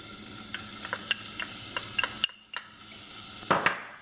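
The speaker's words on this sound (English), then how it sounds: "And we stir it for about 2 minutes." Onion and pepper stir-fried in olive oil in a pan, with a steady sizzle broken by a string of sharp spatula scrapes and taps, close and fairly loud, brief quiet in the middle before stirring resumes.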